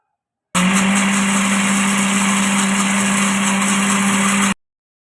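A blender whirs at high speed in one steady, loud drone for about four seconds, starting and stopping abruptly, while making homemade mayonnaise.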